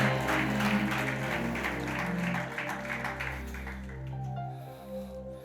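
Church congregation applauds loudly during a sermon, a busy patter of clapping over sustained keyboard chords that continue on after the applause thins and fades.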